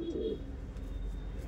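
A domestic pigeon coos softly nearby, a single low throaty call at the start over a quiet background hum.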